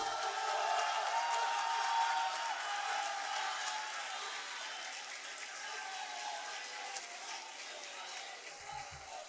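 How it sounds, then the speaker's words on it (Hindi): A mushaira audience breaks into sustained, dense applause to welcome a poet to the stage, filling the hall with a steady roar of clapping that slowly tapers over about nine seconds. "भरपूर तालियों में खड़े होकर इस्तकबाल कीजिएगा"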